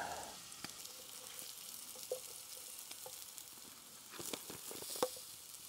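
Potatoes with grated Parmesan fry in a pan at a car campsite, giving a faint, steady sizzle with scattered soft pops and clicks and no talking.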